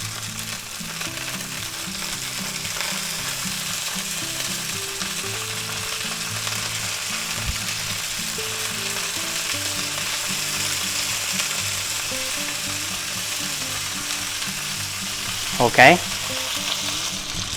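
A thick London broil steak sizzles loudly and steadily in a cast iron skillet while being basted with butter, with faint clinks near the end and a short word spoken.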